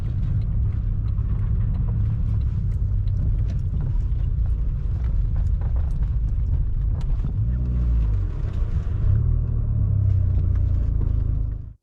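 A Peugeot car drives through mud and leaves in Cockington, giving a steady, loud low rumble of engine and tyres with mechanical rattles throughout, swelling slightly near the end before cutting off.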